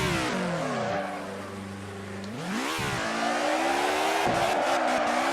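A Mercedes-Benz in the Assetto Corsa racing game spins donuts, its engine revving up and down with a steady harmonic whine as the tires squeal continuously throughout, loud and close with no talking.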